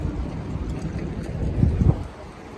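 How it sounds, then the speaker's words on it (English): Gusty wind buffets the microphone in a low rumbling roar that swells louder near the end. "It's so windy today is the problem too."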